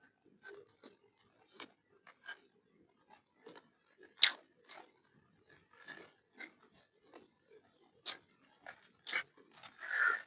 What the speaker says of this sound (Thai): กินผลไม้มั่ง